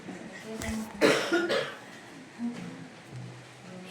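Several coughs and throat-clearing sounds close by, with the strongest burst around the middle, over a background of low murmuring voices.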